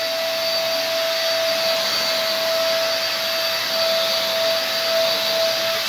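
A Keenox vacuum cleaner runs steadily as it sucks up dirt, giving a loud, continuous whooshing roar with a high motor whine that never lets up, with no talking.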